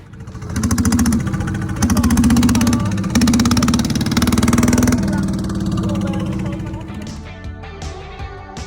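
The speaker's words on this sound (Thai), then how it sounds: "ตอนนี้เราก็จะนั่ง เรือหางยาวนะคะ" A loud, droning long-tail boat engine runs steadily for several seconds and then eases off, leaving a quieter rumble with some fainter background sounds.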